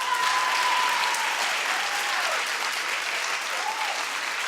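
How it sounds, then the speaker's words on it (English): Studio audience at a daytime talk show clapping steadily, a dense, even wash of applause that holds for a few seconds at fairly close range, with a faint tone and background voices mixed underneath. "Clap if you want to help."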